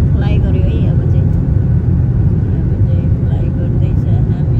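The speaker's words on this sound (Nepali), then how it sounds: "प्लेन फ्लाइ गर्यो है।" Inside an airplane as it takes off and climbs: a loud, steady, broad roar of engines and rushing air fills the whole stretch without letting up.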